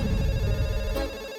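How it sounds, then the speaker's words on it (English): A telephone ringing with a steady electronic tone, held loud and continuous for over a second before cutting off, with no voices. "you just hear any phone ring now"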